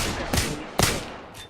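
Video game gunfire: two sharp, close shots about half a second apart, each a bright crack with a short ringing tail, followed by a fainter third burst near the end.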